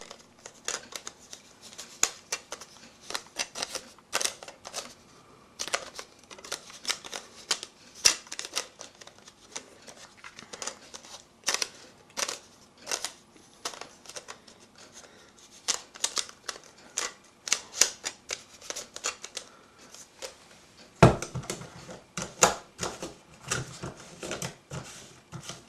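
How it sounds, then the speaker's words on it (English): A camera lens cap and lens hood are handled and clicked into place during camera cleaning, giving a long series of small, close plastic clicks and light handling taps at an irregular rhythm with short pauses between them. "Get your lens cap, click it in, get your lens hood again"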